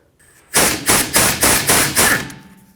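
A hammer strikes an impact screwdriver on a brake rotor screw of a 2011-2014 Hyundai Sonata during a front brake job, six sharp metallic blows in an even rhythm, loud and close, each ringing briefly before the next.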